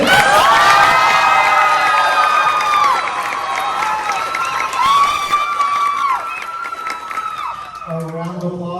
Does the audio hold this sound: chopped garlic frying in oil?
no